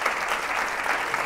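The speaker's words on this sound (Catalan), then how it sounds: "Fem un aplaudiment, si us plau." Audience applause for school teams at a televised Catalan word-game quiz, a continuous bright wash of clapping from a crowd, fairly distant and unbroken through the brief moment.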